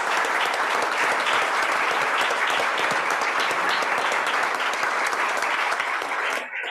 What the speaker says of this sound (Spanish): Un aplauso a los 4 panelistas